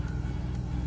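A Nissan 350Z, owned since 2005, gives off a steady, deep engine rumble heard up close and unbroken for a brief moment.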